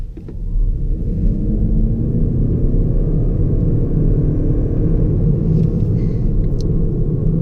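A 2020 Toyota Corolla Hybrid with a CVT hums with a steady, monotonous low drone that rises gradually as it accelerates, heard from inside the cabin with constant road rumble.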